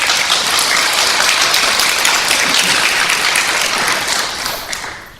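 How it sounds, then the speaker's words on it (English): An audience in a high school auditorium at a Tampa town hall applauds: dense, steady clapping that holds for several seconds before tapering off at the end. "Give him a round of applause"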